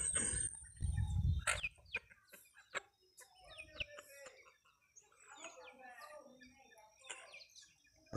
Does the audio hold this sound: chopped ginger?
no